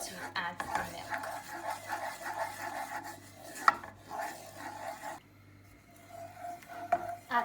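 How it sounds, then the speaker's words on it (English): A whisk scrapes and swishes steadily around a pan of milk sauce for a croque monsieur, a continuous rhythmic rasp with a few metallic clinks, under quiet speech. "when it's all combined with no lumps, you can use a whisk"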